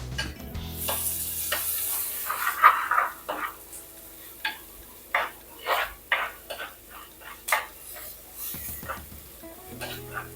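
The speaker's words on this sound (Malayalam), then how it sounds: "ഒരു 3-4 തണ്ട് കറിവേപ്പില ഊരിയിട്ട് കൊടുക്കേ" Curry leaves hit hot oil in a pan, bursting into a crackling sizzle with sharp spits and pops over a steady frying hiss, clear and close, with occasional stirring clatter.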